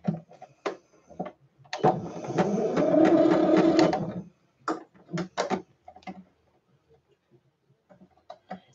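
A home sewing machine stitching a scrappy fabric roll, a steady whirring run of about two seconds between scattered taps and handling clicks, close and fairly loud, with no talking.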